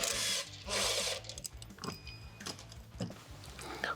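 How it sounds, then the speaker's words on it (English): A power drill whirs in two short bursts as it backs a bolt out of a rivet nut's threads on a 2024 Tacoma bed. Lighter ratcheting clicks and handling noises follow up close. "Go ahead and back that inmate bolt out of the threads of the rivet."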